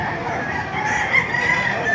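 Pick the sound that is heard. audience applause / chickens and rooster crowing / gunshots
chickens and rooster crowing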